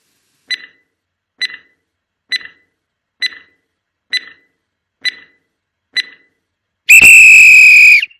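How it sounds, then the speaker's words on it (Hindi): A quiz countdown timer ticks seven times at an even pace of just under a second each, then ends in a loud, sustained buzzer-like alarm tone. "स्टार्ट हो गया टाइमर, जल्दी बताएं।"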